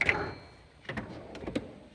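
A drawer on a Matco 770 tool cart slides open, giving a couple of soft, brief runner rumbles and a light clack in a quiet room.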